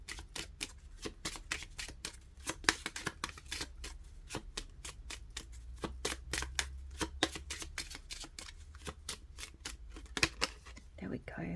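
Tarot and Lenormand cards are shuffled close up in a long run of crisp, rapid riffles and snaps, repeating steadily with a faint low background hum.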